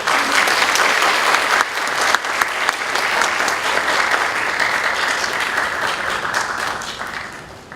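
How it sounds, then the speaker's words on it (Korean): A church congregation applauds warmly to welcome the pastor to the service, a dense, sustained roar of many hands clapping together that holds steady and then tapers slightly at the end. "여러분 따뜻한 박수로 환영해 주시기 바랍니다."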